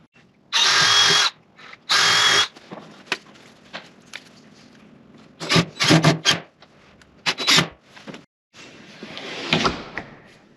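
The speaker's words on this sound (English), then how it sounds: "I'm going to pre-drill some holes and get this mounted." A power drill bores pilot holes for mounting a lockset in a woodshop, two loud bursts of whirring followed by shorter drilling spurts, scraping and handling noises in between, close and with no talk.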